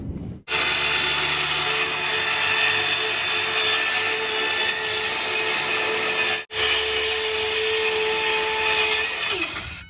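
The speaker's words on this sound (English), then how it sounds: "I'm going to use the skill saw to cut straight edges on either end," A skill saw rips straight cuts across plywood with a loud, sustained whine, broken by one brief pause between two long passes, close up.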